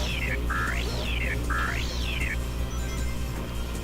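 A synthetic robot noise from the Sonic Adventure video game: two rising and falling electronic warbles in quick succession, loud over a steady game background hum, then the hum continuing alone.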